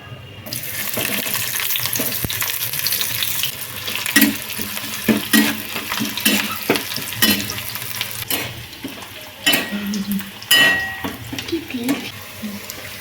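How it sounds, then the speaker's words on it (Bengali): Bay leaves frying in hot oil in a wok, a continuous sizzle with scattered stirring clinks and scrapes, while faint talk is heard in the background. "তেল গরম হয়ে গেছে এবার তেজপাতা দিয়ে দেবো কড়াই"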